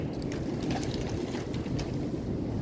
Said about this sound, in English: my goodness, what an incredible gust of wind.